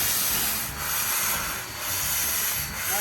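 Steam hisses loudly and steadily from the opened cylinder cocks of a steam locomotive, releasing pressure, with a soft rhythmic chuffing pulse underneath.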